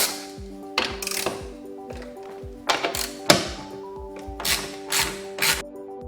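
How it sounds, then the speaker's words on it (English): 10mm bolts being removed from a Porsche 981 Cayman engine bay, a series of close metallic clinks, taps and ratchet clicks with short ringing tones, irregular and alone. "Now first, we're going to remove 10mm bolts."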